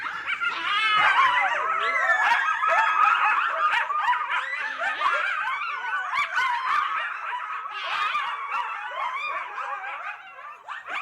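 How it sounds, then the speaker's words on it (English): A pack of coyotes howling and yipping together at night, a dense overlapping chorus of wavering howls, yelps and whines that stays loud and continuous throughout with no talking. "if they're out there howling and yipping, they can get each other going, and it can sound very spooky"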